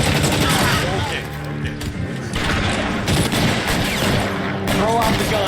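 Gunfire in the L.A. Noire video game, dense rapid shots and booming blasts, loud and continuous with brief lulls between volleys.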